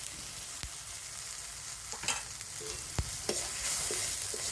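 Turmeric powder is stirred into tomatoes frying in oil, a steady sizzle broken by several sharp scraping clicks of a spoon against the pan, close by, with no voices.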